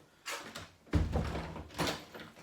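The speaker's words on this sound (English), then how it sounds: "I'll shut the door." A door is pushed shut at close range, giving a solid wooden thud and rattle after a brief sliding scrape, followed by a softer knock of the latch settling.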